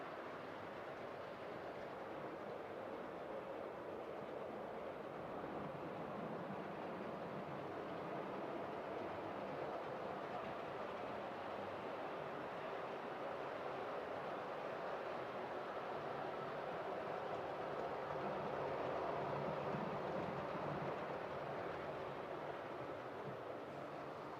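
Steady rumbling of a model railway locomotive pulling coaches continuously on track, a low mechanical whir and rattle with no voices.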